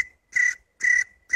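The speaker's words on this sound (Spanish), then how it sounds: "sonaron los grillos" Cricket chirps sounding as a comedic silence effect, three evenly spaced high trilling bursts with a thin steady tone lingering between them, clear and alone with no talk.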